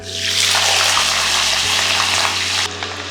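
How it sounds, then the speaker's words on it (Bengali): Potatoes are dropped into hot oil and fry with a loud, continuous rushing sizzle that stays strong throughout, close and unbroken, with a steady low hum beneath. "এইবার তেলে দিয়ে দিন আলু"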